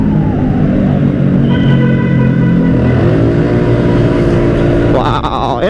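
Honda Beat Fi scooter with an 8-gram roller and racing-style CVT spring revving hard at full throttle, a loud sustained engine roar rising and falling in pitch, with a voice talking over it.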